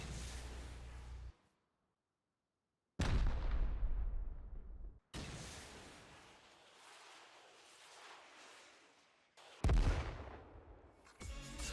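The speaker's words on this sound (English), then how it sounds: "The HV rocket has a new sound." HV rocket launches and booms in the video game Rust, a few loud blasts each followed by a long rumbling decay, separated by silence, with no voices.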